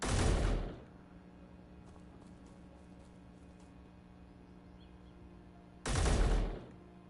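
Rifle fire in the Space Engineers game: two sharp, loud shots about five seconds apart, with a low quiet hum filling the gap between them.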